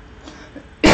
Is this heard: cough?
yes